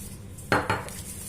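Eggs dropped into a mixing bowl for a marble cake batter, two quick close clinks of shell against the bowl with a short splat, otherwise quiet.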